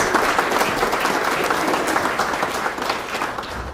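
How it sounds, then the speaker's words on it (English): A crowd at an art show awards event gives steady, dense applause for an Artistic Merit Award winner, sustained and fairly loud throughout with no talking. "Give her a round of applause"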